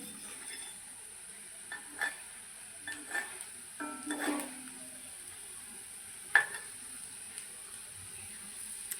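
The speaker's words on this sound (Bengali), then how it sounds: "দেখুন এখানে কয়েকটা বড়া আমি ছেড়ে দিয়েছি" Lentil and meat pakora fritters frying in oil over a medium-low flame, a steady quiet sizzle broken by occasional clinks and stirring sounds close by, with a sharp metallic tap partway through.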